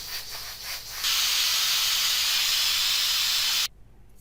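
Steam from a pressure cooker of potato and mutton curry rushes out after the weight is lifted: a loud, steady, close hiss lasting a few seconds that cuts off abruptly.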